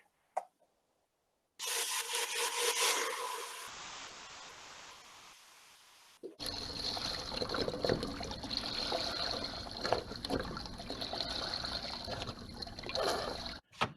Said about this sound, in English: we're going to pour in all of our stock